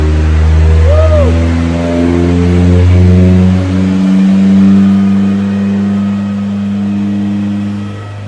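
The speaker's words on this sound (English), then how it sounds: "Mini truck, Nissan, guys, and K24 motor and the turbo. Boosted." A Nissan mini truck fitted with a turbocharged K24 engine revs hard on a Mustang dynamometer, a loud sustained engine howl holding high rpm and then easing off.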